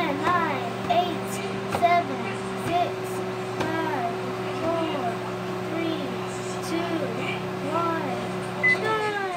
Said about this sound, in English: put it in the microwave again for 10 seconds